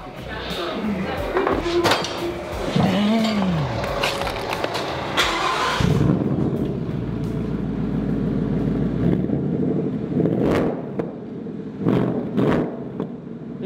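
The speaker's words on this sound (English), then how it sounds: "salesman even gives us some baby revs too?" A car engine gives a few short, light revs up close, each rising and falling, followed by a steady idle and later some clunks and handling noises.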